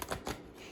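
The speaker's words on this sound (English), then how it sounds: "Oh no, I'm bad at shuffling." Tarot cards riffle and slap together in a couple of quick bursts as they are shuffled by hand, close and fairly soft.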